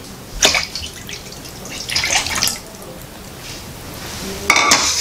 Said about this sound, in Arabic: وكنخلطو الخليط ديالنا اللي هو شاد اللون الصفر بحال هكا. نخلطو مزيان